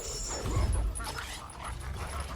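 A dog whimpering and yipping in the video game God of War Ascension, a short faint whine over low game background, with a fuller low thump early on.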